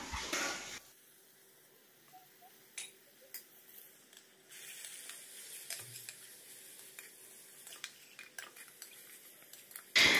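Tomatoes being stirred into masala in a pan: soft scraping of a spoon against the pan with faint sizzling and occasional light clinks, quiet and close.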